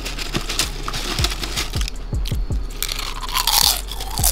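A crunchy, crispy fried snack such as a cheese stick is bitten and chewed up close, giving a run of sharp crackling crunches and brittle snaps with no talking.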